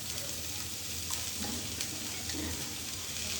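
Chopped cabbage and onion fry in a pan for steamed wheat-flour momo filling, a soft, even sizzle with faint stirring scrapes, quiet and continuous with no voices.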